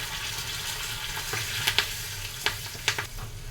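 Curry leaves and asafoetida sizzle loudly in hot oil as the tempering for a carrot pickle, a dense continuous crackle close by with a few sharp spits and clicks near the end.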